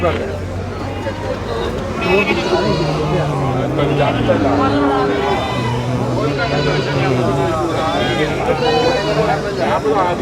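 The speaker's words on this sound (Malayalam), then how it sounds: "നല്ല ആടുകളുണ്ട് കേട്ടോ" Goats bleat loudly and repeatedly amid a busy crowd at a goat market, their wavering cries rising over a constant babble of voices and background commotion.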